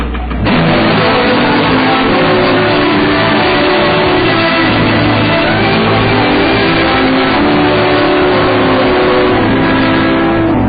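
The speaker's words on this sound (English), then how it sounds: "All right, Maria, go forward and start the engines" Boat engines on the vessel Argus start in a radio drama, a loud, steady motor roar that fills the whole stretch without pause and holds close and heavy from start to end, with no voices.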